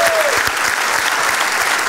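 A studio audience on a television talk show applauds loudly and continuously, a dense wash of clapping with no pause, close and full throughout.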